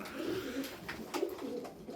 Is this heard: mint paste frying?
no